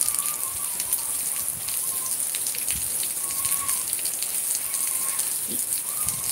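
Rain falls steadily at Ponta Gato in Tarrafal, Santiago, Cape Verde, a constant close hiss with scattered heavier drops spattering on surfaces, and no voices.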